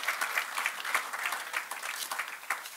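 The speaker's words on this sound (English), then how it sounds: "Give a round of applause to Eric Dennis, guys" Steady applause from an audience at a poker awards ceremony, a continuous patter of many hands clapping at moderate volume, with no voices rising above it.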